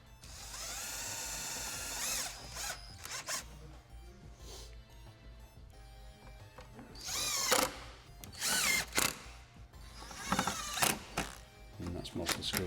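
A power drill drives screws into gloss black body kit panels on a BMW X5 G05, whirring in short, repeated bursts separated by pauses, close and fairly loud.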